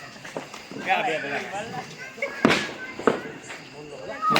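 Diwali firecrackers go off in a village setting: a few sharp pops and cracks, one louder burst mid-clip, heard at moderate distance while several people talk and shout nearby throughout.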